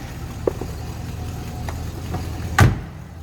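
A 1967 Buick Skylark's 340 V8 engine idles with a low, steady rumble and occasional soft clicks, heard close up.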